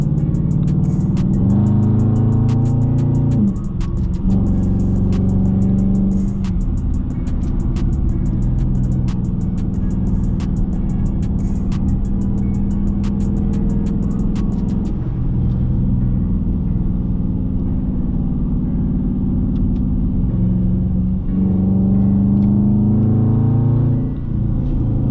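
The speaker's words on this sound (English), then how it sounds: "I'm gonna just let the car do the talking and I'm gonna do the driving." Dodge Charger R/T driven hard on a curvy road, engine rumbling and rising through several strong pulls with gear changes, a close, loud interior drone throughout with no talking.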